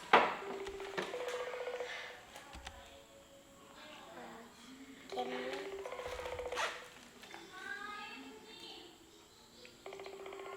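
A mobile phone call rings out in repeated short tonal pulses, heard faintly and spaced several seconds apart, with quiet talking and handling noise in between.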